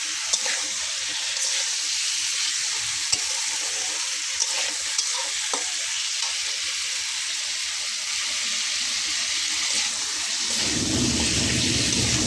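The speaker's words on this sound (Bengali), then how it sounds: "আলুটাকে আমি এখানে 5-7 মিনিট একটু কষিয়ে নেব।" Potato chunks sauté in a pan for a fish curry, a constant bright sizzle with occasional clicks of stirring, and a louder burst of frying near the end; no one speaks.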